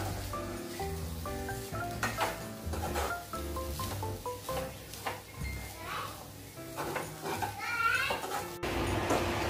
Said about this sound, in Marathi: त्याचं परतून घ्यायचं.